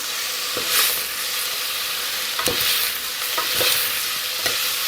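Fenugreek leaves being stirred in a hot cooking pan for a Telugu methi dal, a steady sizzling frying hiss with several soft scraping stirs spread across the moment, close and without talk.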